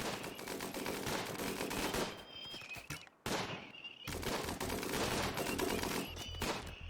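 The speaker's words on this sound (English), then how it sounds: "And the bolt actions have already opened fire." Bolt-action rifles fire in RimWorld in a dense, loud volley of overlapping gunshots, with a brief near-silent gap around the three-second mark before the rapid firing resumes at full intensity.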